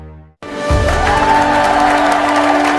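A crowd applauding and cheering for a new department manager at a workplace gathering, sustained clapping that swells in after a brief pause and stays loud and even.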